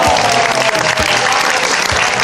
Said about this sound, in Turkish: Bir alkış alalım mı?